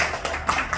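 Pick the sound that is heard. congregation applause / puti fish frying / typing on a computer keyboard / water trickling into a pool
congregation applause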